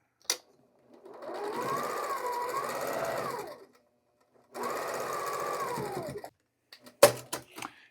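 A sewing machine stitches quilt rows together in two steady runs, the first about two and a half seconds long and the second shorter, with a brief pause between them and a few sharp clicks and handling knocks afterward.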